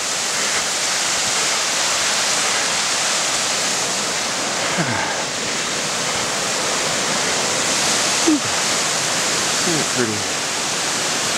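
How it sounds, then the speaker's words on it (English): Creek flowing through snowy woods near an old grist mill, a loud, broad, steady rush of water filling the scene, with a few short voice phrases heard over it. "Let's see what the creek looks like."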